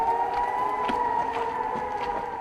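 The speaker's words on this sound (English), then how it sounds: "Sirens sounded, rockets were headed our way." Air raid sirens wail steadily as a warning of incoming rockets, a sustained, loud droning tone that holds for the whole stretch with no voices over it.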